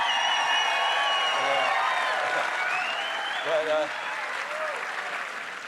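A crowd at a packed live political event applauds and cheers, with sustained clapping, scattered whoops and shouted voices rising over the roar, loud and continuous before slowly tapering.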